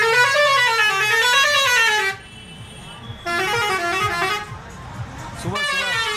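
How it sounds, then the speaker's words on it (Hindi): Passing trucks on a road in Kannauj, Uttar Pradesh, sound their horns early in the morning: long, loud, wavering blasts, close by, broken by short gaps with engine rumble underneath. "ये सुबह सुबह जो ट्रक जा रहा है, सब हॉर्न बजाते हुए"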